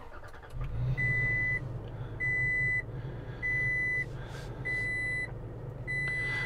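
Startup chimes in a 2022 Toyota Tacoma TRD Pro, five evenly spaced electronic beeps about a second apart, clear and close over a steady low idle hum inside the cab.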